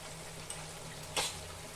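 Spice masala of Kashmiri chilli powder and coriander powder frying in oil, a quiet steady sizzle with a brief brighter hiss of stirring partway through, no voices.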